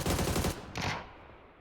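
Automatic gunfire in PUBG on the Vikendi map: a fast rattling burst, a short pause, then a second brief volley that trails off into echo.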